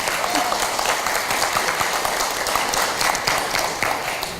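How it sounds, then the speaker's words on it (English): Sustained applause from a conference audience at a summit, steady and fairly loud, a dense wash of clapping with a few individual claps standing out. "Can we give another round of applause to Sally and Tam?"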